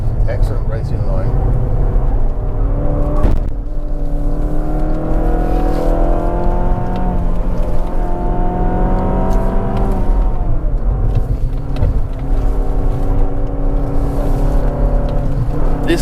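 A Mazda 6 Touring car drives the winding Genting road, its engine droning steadily and rising and falling in pitch through the gears, close and loud, with people talking inside the car over it.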